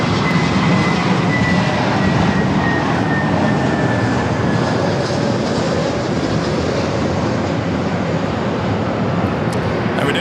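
Airliner engines roar loud and steady at LAX on runway 24 left, a dense continuous rumble with a faint whining tone drifting across it.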